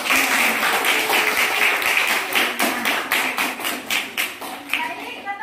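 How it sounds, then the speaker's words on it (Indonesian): Classroom applause as students clap together at the end of a lesson, a fairly loud, rhythmic run of individual claps that gradually thins and softens. "Kita beri tepuk tangan."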